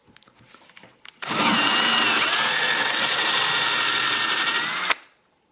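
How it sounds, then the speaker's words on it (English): A 1/2 inch power drill bores out a damaged socket in a composite bifold door rail, starting abruptly and running as a loud, steady whine for about four seconds before cutting off, preceded by faint handling clicks. "we're going to drill it out with a 1/2 inch drill"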